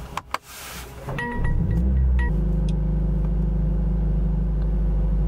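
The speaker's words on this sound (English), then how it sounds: "I'm gonna turn on the car." A 2023 Mercedes-AMG CLA 45 Coupe Edition 55 starts up. A few clicks come first, then the engine cranks and catches with a rising roar before settling into a loud, steady idle rumble close by.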